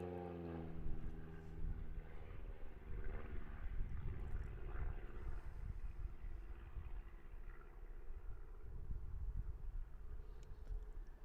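Small aerobatic aircraft flying a competition sequence at an aerobatics championship, a steady engine drone with rising and falling roar, fairly distant and faint, no voices.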